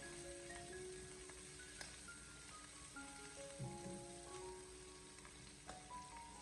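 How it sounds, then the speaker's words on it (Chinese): Doubanjiang bean paste stir-fried in a wok for a hand-torn cabbage dish, giving a steady, moderate sizzle and crackle throughout, with soft music running in the background. "然后再继续的把它翻炒一小会，把豆瓣酱给它炒出酱香味，炒出红油"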